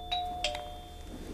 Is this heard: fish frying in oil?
no